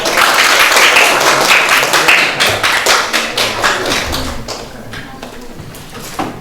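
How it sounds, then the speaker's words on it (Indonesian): Applause from a class of high school students during teaching practice, a dense burst of clapping that starts loud and slowly thins and fades over several seconds. "Ya, beri tepuk tangan."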